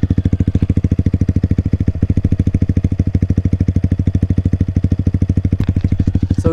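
Yamaha XSR 155 motorcycle fitted with an SC Project CRT 470mm exhaust idling at low revs, a loud, steady, rapid thumping putter close by with no talking.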